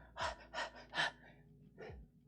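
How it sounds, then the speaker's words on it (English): Heavy breathing during a strength and movement warm-up before squat exercises: three strong, close exhalations in quick succession, then a softer fourth breath after a short pause, with no talking. "Might be some heavy breathing today."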